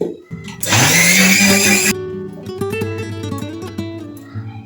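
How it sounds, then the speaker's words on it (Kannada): A mixer grinder grinding ragi with water whirs loudly for a couple of seconds with a high buzzing roar, then stops abruptly, leaving ringing clatter and rattling as it winds down. "ಮತ್ತೆ ಮಿಕ್ಸಿ ಮಾಡ್ಕೊಳ್ತೀನಿ"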